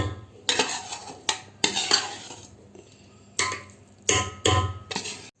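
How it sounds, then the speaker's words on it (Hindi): Chicken haleem being mashed by hand in a pot over the fire with a traditional masher, no machine: bursts of heavy clattering and scraping strokes separated by short pauses, loud and close, with no talking. "ये देसी तरीके से हम घोट रहे हैं, कोई मशीन यूज़ नहीं कर रहे।"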